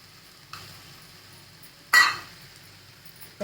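A spoon stirs jaggery into ghee in a pan over a faint low sizzle, with one light scrape early on and a louder scraping clink near the middle.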